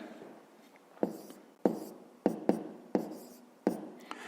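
A pen scratches out figures by hand during a fifth-grade math exercise, a quiet run of short sharp strokes and taps at uneven intervals, close and alone with no talk over it.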